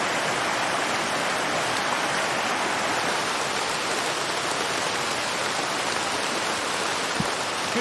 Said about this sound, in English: It's like the rain finally caught up with us.